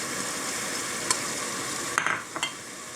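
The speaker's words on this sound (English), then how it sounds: "we are going to add our small onion. Put that right in the pan." Small onion pieces drop into a hot pan where browned food is already cooking, giving a low steady sizzle with a few brief clinks and stirring scrapes near the end.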